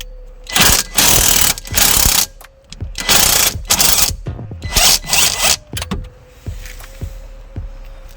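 A rusty bolt is loosened with a power tool in several loud whirring bursts separated by short pauses, close up, with a faint steady hum running underneath.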